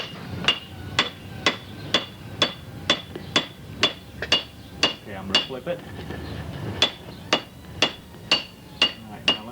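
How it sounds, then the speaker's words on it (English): Blacksmith's hammer flattening hot metal, striking in a steady run of about eighteen sharp, ringing metallic blows at a regular pace with a brief break midway, loud and close, with a short spoken remark between strikes. "Pick up your hammer. And we'll do some more flattening."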